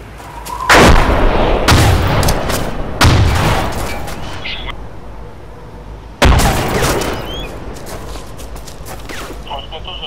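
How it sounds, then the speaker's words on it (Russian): Grenade blasts and gunfire in the military game ArmA 2 (ACE): several loud booming explosions and shots, a heavy hit near the start, more around the middle and another big blast later, each trailing off in rumbling echo, with faint voices underneath. "Кидаю гранату туда."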